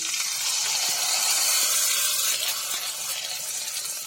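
Sago papad frying in hot oil, a steady broadband sizzle and hiss that stays loud and continuous throughout, easing slightly toward the end with no talking.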